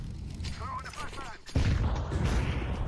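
A flashbang grenade in a shooter video game goes off with a sudden loud burst partway through and then sustained noisy blasting, after a brief stretch of a voice speaking over game sounds.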